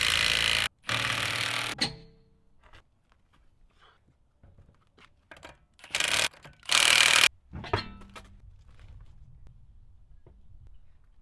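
Ratcheting and clanking as lug nuts are tightened on a 2010 Toyota Highlander wheel: loud bursts at the start and in the middle, with quieter scattered clicks and taps between them.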